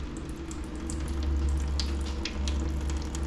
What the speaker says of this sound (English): I'm going to run some of this fresh fluid through to get some of that old fluid out.